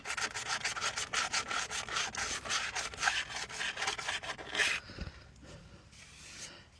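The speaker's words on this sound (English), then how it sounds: "what I'm doing is I'm just sanding, trying to smooth it off." Old Chevy truck wheel being hand sanded to smooth its painted surface: rapid, rhythmic rasping back-and-forth strokes, close and fairly quiet, stopping near the end.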